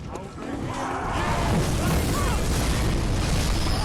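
A fireball explosion in the game Bloodborne, a broad rumbling roar that swells within the first second and then holds as a loud, sustained blast of noise.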